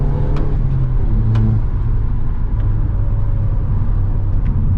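A modified VW Golf Mk6 1.4 TSI engine drops through a downshift from inside the car, a steady loud low drone with shifting engine tones and road rumble throughout, no talking.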